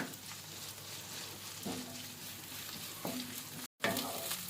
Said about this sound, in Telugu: ఇప్పుడు రెండు పచ్చిమిర్చి కట్ చేసుకున్నవి అలాగే కరివేపాకు కొంచెం అల్లం పేస్ట్ వేసి మంచిగా కలియపెడదాము